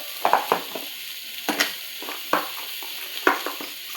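Chopped dal fries in a pan under a steady soft sizzle as a spatula stirs it, with repeated scraping strokes about every half second, close and fairly loud, and no voices.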